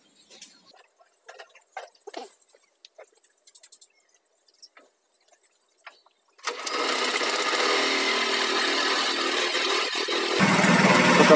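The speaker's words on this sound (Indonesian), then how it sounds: "kita akan menghidupkan mesinnya" An engine on a machine that mixes feed for laying hens starts up after a few quiet scattered clicks and handling noises. It then runs steadily and loudly nearby, growing a little louder near the end.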